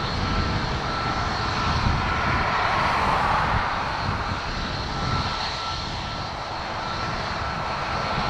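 Ryanair airliner engine at Dublin Airport, a steady broadband roar that holds near-constant loudness throughout, heard alone without voices.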